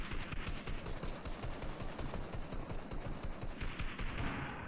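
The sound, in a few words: gunfire in a video game battle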